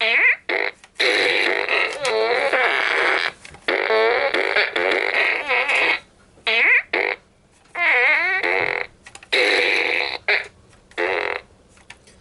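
Toy fart gun firing a rapid series of loud, rasping fart noises in separate bursts of varying length, with short silent gaps between them.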